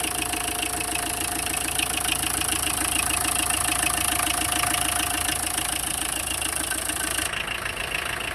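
Engine of a vintage jeep, rebuilt from an old engine whose spare parts are scarce, idles steadily with a close, loud mid-pitched rumble and a fast knocking pulse, running unbroken and alone.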